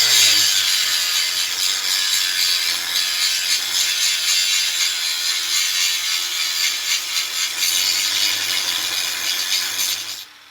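A grinder smooths a weld fillet on metal, giving a loud, continuous, high-pitched abrasive grind that holds steady for about ten seconds before dropping off at the end.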